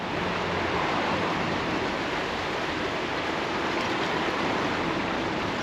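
Steady broadband rush of water flowing on the River Soar near a sunken narrowboat, continuous and fairly even with no talk over it.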